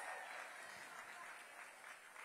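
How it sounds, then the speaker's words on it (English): An audience at a High School Decision Day celebration at Ida B. Wells Middle School applauds steadily, with faint clapping throughout the short stretch. "So please give them a round of applause"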